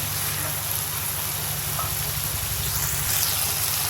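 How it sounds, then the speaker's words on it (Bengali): Small new potatoes and spice paste with tomato fry in a pan for aloo dum, giving a steady, close hiss of sizzling over a low, throbbing hum. "ভালো করে এটা একটু কষায় নেব, মশলাটা আলুটার মধ্যে ঢুকে যায়।"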